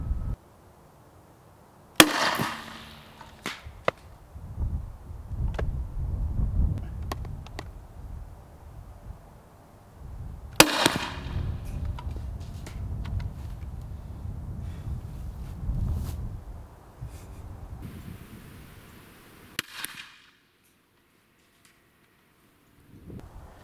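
A Spikes Tactical 37mm grenade launcher firing outdoors: a sharp, loud pop, then a long rushing, rumbling tail, a second report about eight seconds later with more rumble, and wind throughout.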